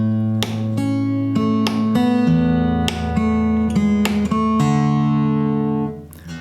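Acoustic guitar played percussively, the first two bars of an uplifting riff: sharp slapped hits alternate with ringing chords in a steady rhythm, loud and close, fading out at the end with no talking.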